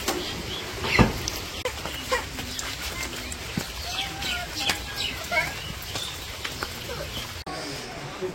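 Chickens cluck while being fed outdoors on a rainy village day, a busy mix of short calls, rustling and patter heard close by with faint voices in the background.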